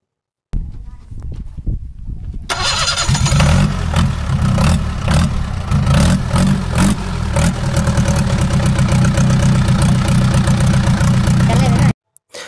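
Kirloskar HA-494 diesel engine, freshly refitted with its injection pump and nozzle pipes, cranks briefly, then fires and settles into a loud, steady rhythmic idle that runs for about nine seconds before cutting off.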